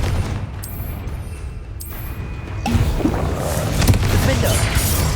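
Confringo blasting spells explode during Hogwarts Legacy combat, with repeated booms and crackling bursts over a steady low rumble while a voice is heard.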